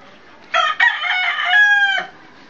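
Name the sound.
chicken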